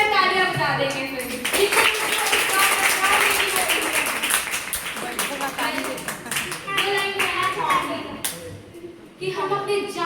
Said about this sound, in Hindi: अच्छा, जोरदार तालियां बजा देंगे फिर।